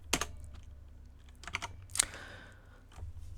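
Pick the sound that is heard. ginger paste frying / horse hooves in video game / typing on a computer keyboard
typing on a computer keyboard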